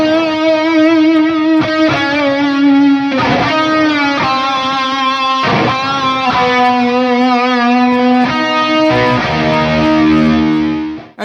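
Electric guitar played through a Fractal effects unit, a run of distorted chords and sustained notes with a light chorus shimmer, loud and continuous with no talking.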